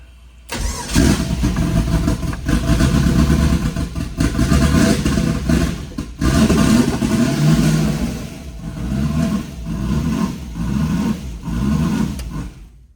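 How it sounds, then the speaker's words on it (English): An engine bought for $100 starts and is revved with no oil pressure, running as a loud, close, continuous rumble that surges through repeated rev swells before easing off near the end. "it's got no oil pressure, so We're gonna rev it"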